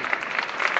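Audience applause at a live Beppe Grillo rally in Bari, a dense steady patter of many hands clapping, close and continuous for a brief moment.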